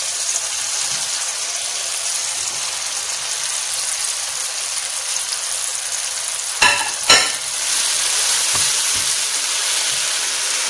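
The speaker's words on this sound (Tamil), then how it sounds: "பிரெட்டை சேர்த்து நல்லா மிக்ஸ் பண்ணி விட்டுக்கோங்க." Small bread pieces stir and fry in a hot tomato masala, giving a steady close sizzle with a few sharp scraping knocks partway through, no voices.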